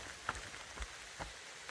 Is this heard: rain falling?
yes